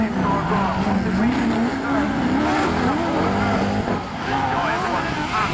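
Autograss racing cars at Castle Combe roar close by with a loud, sustained engine note that rises and wavers in pitch, with hints of tyre squeal throughout.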